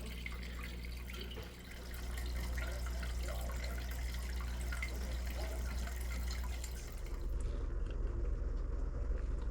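A gold pan is rocked back and forth in river water on the North Saskatchewan, washing off blonde and black sand. Soft, continuous watery swishing sits over a low steady rumble and thins out near the end.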